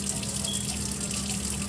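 Water runs and splashes steadily at close range while washed mushrooms are lightly pressed to squeeze out the water, a continuous wet hiss with no voices.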